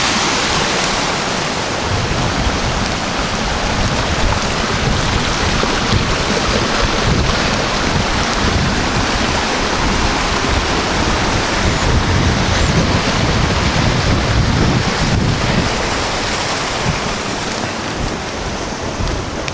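Water from a hose pours into a blue bowl micro sluice waterfall, a loud, steady, close rushing wash that never lets up.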